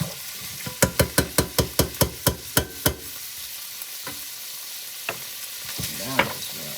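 Meat and vegetables stir-frying in a pan: a fast run of about ten sharp, evenly spaced clacks of a utensil against the pan opens the sound, followed by quieter scattered scrapes and a soft sizzle, with no talking.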